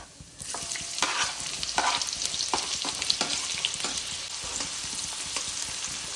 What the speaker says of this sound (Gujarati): હવે એમાં આપણે ડુંગળી નાખીશું